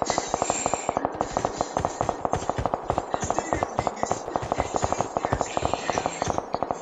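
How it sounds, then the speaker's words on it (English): Rapid bursts of gunfire in the video game PUBG crack continuously, shot after shot in a fast rattling rhythm, loud and close with no pause throughout. "There's a lot of gunshots around this general area"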